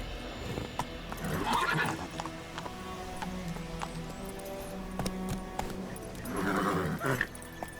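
Horse neighing in the Witcher 3 video game, two loud whinnies, one early and one near the end, over clip-clopping hooves and ambient game sound.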